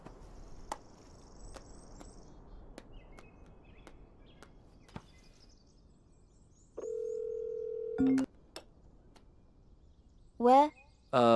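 A mobile phone call produces a steady, moderately loud dial tone lasting about a second, followed by brief ringing chirps, over a quiet background with faint ticking clicks and insect-like chirping.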